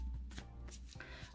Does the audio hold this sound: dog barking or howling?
no